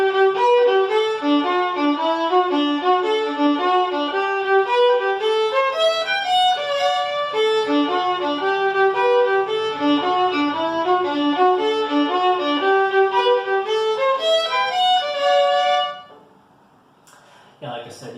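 Fiddle playing a Tobacco Hill dance tune in its busier version with moving notes in place of resting chords, a steady run of bowed melody lines carrying on for about fifteen seconds before stopping abruptly.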